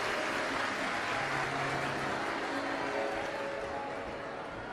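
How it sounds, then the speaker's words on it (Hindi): Sustained applause from a large audience at a five-day Shiv Mahapuran religious gathering in Rajgarh, a steady dense roar of clapping that holds level and fades slightly at the end. "यजमान परिवार के लिए जोरदार ताली बजाकर स्वागत वंदन अभिनंदन"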